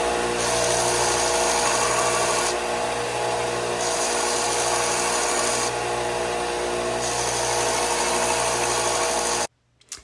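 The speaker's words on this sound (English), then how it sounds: "I'm out in the shop cutting my spindles the length that I want them" A power tool cuts wooden spindles to length in a workshop, a loud continuous whine and grind that pulses in waves as the blade bites, then stops abruptly with a brief clatter at the end.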